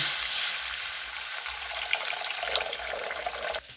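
A bowl of water pours into a kadhai (wok) in a steady, close splashing stream for a few seconds before cutting off abruptly, with no talking.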